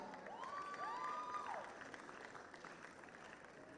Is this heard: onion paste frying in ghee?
no